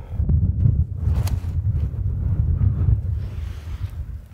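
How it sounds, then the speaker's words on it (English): Strong wind roars and buffets a tent on a mountain top close to the microphone, a low rumbling rush that swells and eases in gusts. "The gusts are still coming and going."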